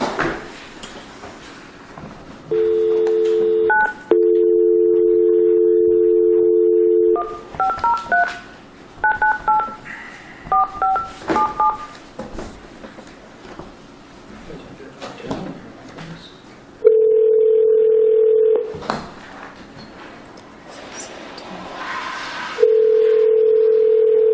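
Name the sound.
telephone dial tone and dialing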